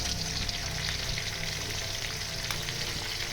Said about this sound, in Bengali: কেটে রাখা ভেন্ডিটা আমি একদম হালকা ভাজবো